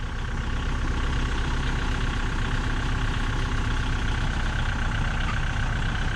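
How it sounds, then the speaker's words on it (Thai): A tractor engine idles and rumbles steadily while the tractor slowly reverses down off a dump truck, a continuous, fairly loud, low-pitched drone throughout with no talk. "แล้วก็รถไถก็ค่อยๆ ถอยลง"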